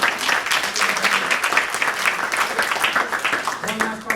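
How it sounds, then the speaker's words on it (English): A room at a student senate meeting breaks into a round of applause, brisk crowded clapping sustained throughout at moderate loudness, with a voice rising briefly near the end. "Let's give a round of applause to John All"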